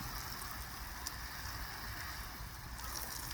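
Continuous soft hiss of water spraying over a vegetable garden planted with kale, bok choy, lettuce and beans, an even rain-like patter that holds steady throughout with no talking.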